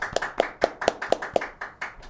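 Hands clapping in a steady rhythm, about nine close, crisp claps evenly spaced in roughly two seconds, with no one talking.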